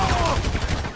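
Rapid burst of automatic gunfire in GTA 5 during a bank heist shootout, a dense loud volley lasting about a second with no gaps.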